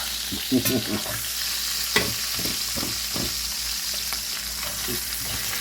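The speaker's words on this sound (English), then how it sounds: "if you enjoy the sound of sizzle, here we go" Sausages sizzle steadily in a hot pan for red beans and rice, a constant bright frying hiss with several close scraping stirs and clatters of the utensil against the pan, no voices.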